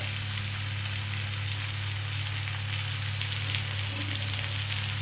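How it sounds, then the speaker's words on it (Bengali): Ground pointed gourd paste with salt frying in a pan over lowered heat, giving an even, continuous sizzle close up over a low steady hum. "এবারে আমি শুধু এটাকে বাড়িয়ে বাড়িয়ে ভাজবো যতক্ষণ না এটা গাঢ় হয়ে যাচ্ছে শুকিয়ে যাচ্ছে ভেতরের জলটা"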